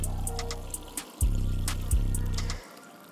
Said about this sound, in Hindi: पानी पूरा भर देंगे